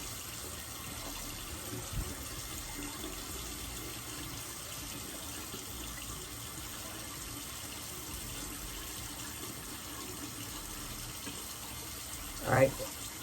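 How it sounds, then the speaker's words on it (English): A bathroom tap runs at a low, steady level while makeup is rinsed off, a continuous faint wash of water with a brief splash near the end. "Let me wet this down, run it on my eyes, and then I'm gonna rinse off."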